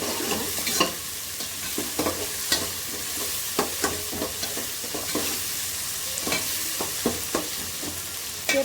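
Tomato for a river fish curry sizzles in a pan while a ladle scrapes and clacks against the metal in frequent irregular strokes, close up over a continuous hiss.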